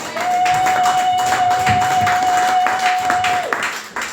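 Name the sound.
congregation applauding and cheering for Jesus in church service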